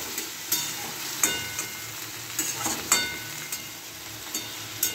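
Potatoes and bori sizzling and frying in a pan after a little water is added, a steady close crackle with brief sharper bursts of hiss and stirring scrapes.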